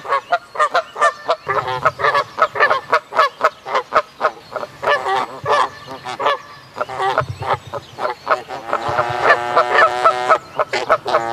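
Goose honking and squawking in a rapid series of loud, nasal calls close by, some overlapping and rising into a longer harsh burst near the end, with no talk.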